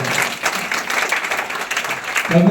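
An audience breaks into applause, a dense wash of many hands clapping steadily at moderate volume, with a brief voice cutting in near the end.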